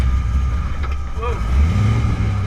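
An LS-swapped Nissan 240SX drives along with a steady, loud low engine drone and road rumble that swells slightly near the end.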